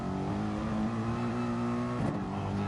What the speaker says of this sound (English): Perzel though drifting that Ferrari out of the exit